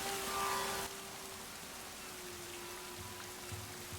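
Rain falls steadily in the video game Wild Hearts, a soft, even hiss of downpour that stays faint in the background without any voices.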